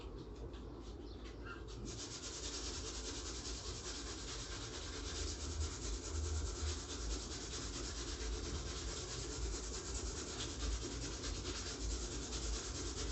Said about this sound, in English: you need to sand a little part here